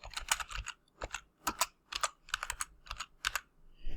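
Quick clattering keystrokes on a computer keyboard, typing a CAD command in short irregular bursts, close and clear with no talking.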